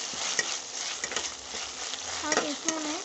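Ginger garlic paste stirred into frying onions in a pan: a steady close sizzle with a spoon scraping and a few light knocks against the pan, heard alone.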